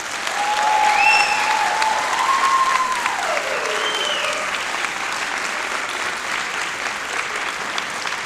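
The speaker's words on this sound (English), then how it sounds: "please acknowledge these folks with a great round of applause" A large graduation audience at a master's commencement applauds steadily, the broad even clatter of many hands filling the space, with a few faint cheers and whistles rising over it early on before the clapping settles into a continuous wash.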